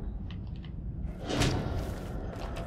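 A character in The Evil Within kicks an object, giving a single dull thud that lands midway among faint background noise.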